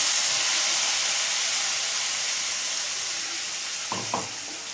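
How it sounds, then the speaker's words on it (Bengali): Ginger, onion and garlic paste frying in hot oil with a steady, close hiss that slowly fades, broken near the end by two quick metallic clinks of a utensil. "মশলাটা ভালো করে আমি 10 মিনিট ধরে কষবো"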